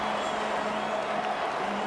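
Broad, steady roar of a stadium crowd cheering at an Old Dominion college football home game against Virginia Tech, a dense wash of voices that holds at an even level throughout without distinct individual shouts.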